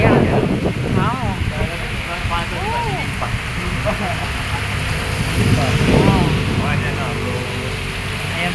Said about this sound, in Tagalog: Binabayo po kami ng bagyo dito sa Cabanatuan guys